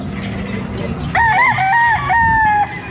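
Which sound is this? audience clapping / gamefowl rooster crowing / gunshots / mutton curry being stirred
gamefowl rooster crowing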